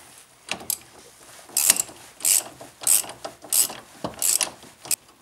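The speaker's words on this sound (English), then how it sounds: "use your 15mm socket and undo it" A 15mm socket on a ratchet wrench loosening the lock nut behind the front suspension mount of a Ford Ka Mk I, six or seven crisp, evenly spaced ratcheting clicks at close range.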